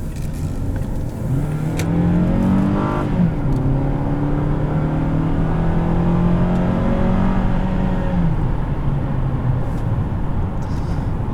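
A 2015 Toyota Camry XSE with an inline-4 engine accelerates, its engine note climbing through a gear change and then holding a steady rising whine, heard from inside the cabin with no talking.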